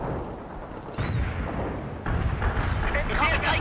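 An artillery barrage in the strategy game World in Conflict, a dense rumbling roar of shells landing that swells in loudness partway through, with radio chatter mixed in.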